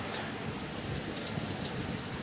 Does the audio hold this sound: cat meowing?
no